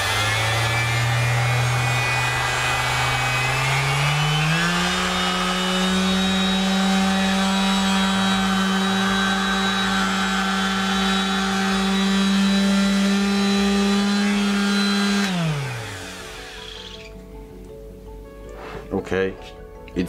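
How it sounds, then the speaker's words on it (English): A Parkside PSS 250 sheet sander, a 250 W Lidl tool, runs steadily and loudly on a piece of coated wood, its motor whine holding for about fifteen seconds before winding down, with a few knocks afterward. "So, let's sand this piece of wood."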